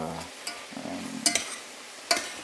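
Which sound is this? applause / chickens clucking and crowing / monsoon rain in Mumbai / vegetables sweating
vegetables sweating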